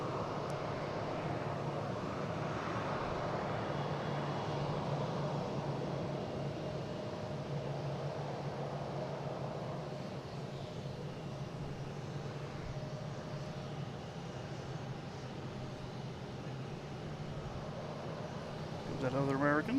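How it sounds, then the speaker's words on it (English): An American Airlines jet airliner takes off from Boston Logan bound for Rochester, its distant engine rumble broad and steady, swelling early and then slowly fading. "And American Airlines taking off,"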